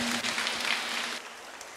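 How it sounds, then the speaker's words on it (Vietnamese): Distant applause in a church rolls steadily as a dense wash of clapping from a crowd, fairly faint, without voices. "Xin một tràng pháo tay dành cho cháu."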